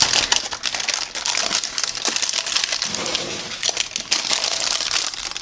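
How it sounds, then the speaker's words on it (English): Loud, continuous crinkling and crunching of parchment paper being pressed and shifted as crumble bar mixture is spread over it, busy and close, with no voices. "And it's loud because there's parchment paper down."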